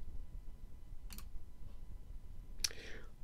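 Two sharp, brief computer mouse right-clicks, close and crisp, about a second and a half apart over a quiet background hiss.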